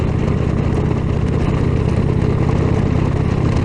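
Steady, loud engine drone of an Indian Chieftain Elite motorcycle laboring in high gear while riding, a continuous low rumble with no break and no talk.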